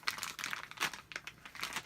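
A plastic blind bag packet is punctured and torn open up close, giving a series of quick, sharp crinkles and tearing rips in uneven bursts.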